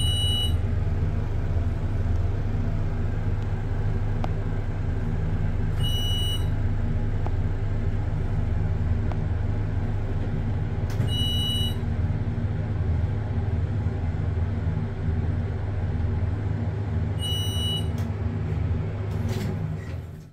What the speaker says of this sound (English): Let's ride the lift.